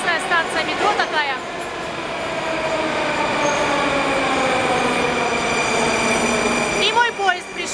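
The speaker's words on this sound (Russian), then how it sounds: "И мой поезд пришел, пора садиться" A Moscow metro train rolls into a station, a sustained rumble with screeching, whistling wheel tones and brief squeals at the start and end.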